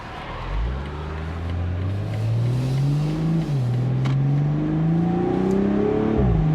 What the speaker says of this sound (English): you just get more of that lovely inline-six burble